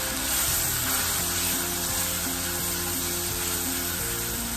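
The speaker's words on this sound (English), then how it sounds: "in this stage I will add ginger garlic paste and cook it till the rare smell of ginger and garlic vanish" Ginger garlic paste frying with onions in hot oil for mutton liver masala, a steady loud sizzle that runs evenly with no pauses and no talking.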